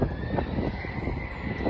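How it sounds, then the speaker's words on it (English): An airplane taking off at Philadelphia International Airport, a loud steady engine roar heard from nearby with no voices. "Another takeoff happening."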